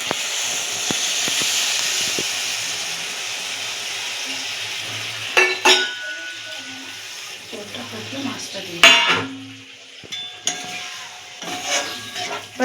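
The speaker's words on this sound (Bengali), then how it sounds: "মশলা থেকে তেল ছেড়ে গেছে, তো সামান্য পরিমাণে জল দিয়ে দেবো।" Water hits hot frying spice paste in a pan for tilapia curry, a loud hissing sizzle that dies down. Sharp clanks of a spoon on the pan follow as the mixture is stirred.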